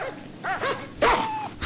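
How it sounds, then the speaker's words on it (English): Dogs whimper and let out short yips and barks, a few separate high whines followed by a louder bark near the end, close and clear with no talking. "they're dogs, always groveling and making noise"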